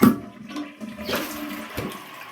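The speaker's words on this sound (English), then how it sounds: "Watch as I try to flush this with just a press and release." A 2000s third-generation Mansfield Alto toilet flushes faintly: a brief handle clunk and a soft, weak rush of water that trails off quickly.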